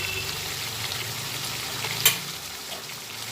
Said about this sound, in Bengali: সব মিশিয়ে আবার ভালোভাবে কষিয়ে নিচ্ছি